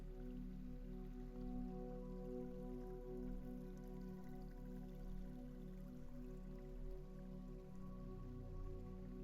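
Rain drops steadily onto a lake, a faint uninterrupted shower of light patters and drips blended with a soft, sustained ambient drone, without any talking.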